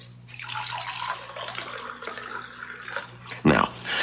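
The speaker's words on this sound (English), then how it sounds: "Now, pour the milk into it, okay?" Milk poured into a glass in an old radio drama, a short liquid burst near the end following a long stretch of steady background noise.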